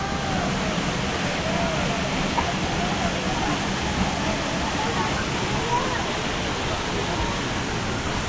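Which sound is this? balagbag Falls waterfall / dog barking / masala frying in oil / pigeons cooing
balagbag Falls waterfall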